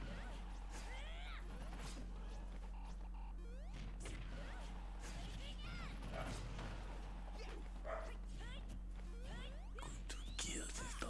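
In Super Smash Bros. Ultimate, a game dog barks and yips amid rapid hits, crashes and whooshing effects, a busy, dense stretch of gameplay with faint voices now and then.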